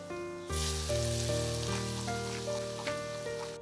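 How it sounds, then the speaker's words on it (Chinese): Hot oil poured over salt, white sesame seeds and chili flakes in a large bowl bursts into a sudden loud crackling sizzle that stays strong and close before easing slightly, over a faint steady tonal hum, with no talking. "往里面加入适量的食盐，半勺白芝麻， 半勺辣椒面，然后浇上热油激发出香味"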